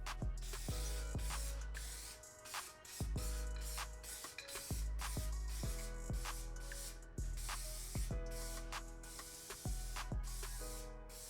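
Filler is sprayed from an aerosol can onto FRP rear bumper extension parts for a Nissan R34, a steady close hiss in repeated long bursts broken by brief gaps and the rattle of the can being shaken.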